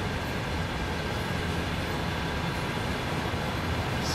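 A train rumbles past in the simulator Train Sim World 2, a dense, continuous roar of rolling stock that stays loud and steady throughout with no talk.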